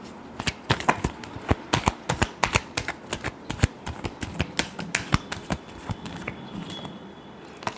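Tarot cards shuffled by hand give a quick run of close, crisp riffling snaps in an irregular rhythm, which thin out toward the end, with no talk.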